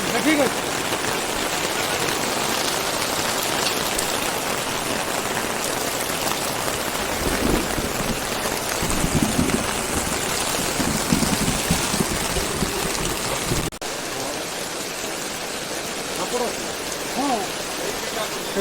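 Sudden heavy rain pours down, a dense, steady hiss of drops drumming on surfaces that fills the whole scene, with a brief dip near the end and voices faintly audible beneath.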